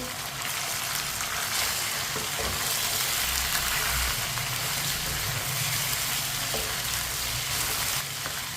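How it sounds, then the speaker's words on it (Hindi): Chicken pieces fry in a pan as a spoon keeps stirring them, giving a steady, loud, close sizzle with occasional scraping clinks, running continuously with no talking. "चम्मच चलाते हुए फ्राई करना है"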